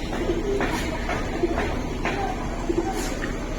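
Silver-coloured Giribaz pigeons, a pair offered for sale, giving soft low coos at intervals over a steady background hum, close by, no talk.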